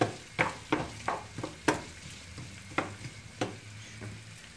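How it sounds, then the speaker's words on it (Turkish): Onions sizzle softly in a pan, punctuated by several sharp scraping strokes as they are stirred. "Soğanlarımız gördüğünüz gibi kavruluyor."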